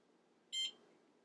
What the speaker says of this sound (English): got a beep over there.